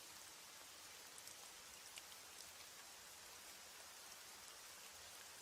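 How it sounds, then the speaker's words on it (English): Steady rain falls in a soft, even hiss with occasional louder drops, faint and constant with no voices. "As the rain falls and the night deepens"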